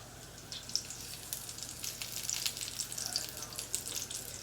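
Meatballs sizzle steadily in a little oil in a pan over a raised flame, a quiet continuous crackle and hiss with small pops.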